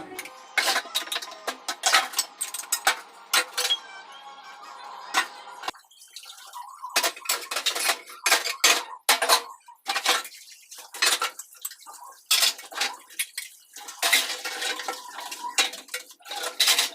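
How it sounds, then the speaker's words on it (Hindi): Steel utensils and dishes being scrubbed and washed by hand at a home kitchen sink, with repeated sharp clanks and clatters of pots and cutlery, some running water, continuing in irregular bursts close by. "तो सारे बर्तनों को मैं फटाफट से साफ़ कर लेती हूँ"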